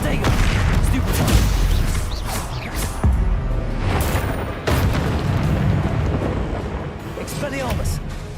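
Spell blasts and explosions in the Hogwarts Legacy video game, a rapid run of loud booms and crashing bursts with whooshes between them while a voice keeps shouting spell names over the combat.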